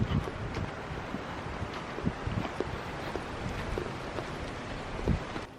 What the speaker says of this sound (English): it's getting a little windy out here, folks